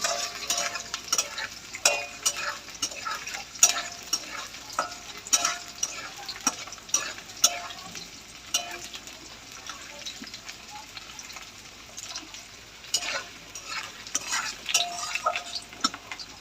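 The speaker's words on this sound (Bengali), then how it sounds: "আলু পেঁয়াজটা একটু লাল লাল করে নেবো" Potatoes and onions frying in a pan while being stirred, soft continuous sizzling broken by frequent sharp scrapes and clinks of the spatula against the pan.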